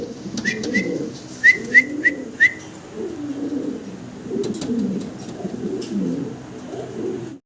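Giant homer pigeons coo in low, repeated rolling phrases close by, punctuated early on by a few short, high whistled notes, with no talking.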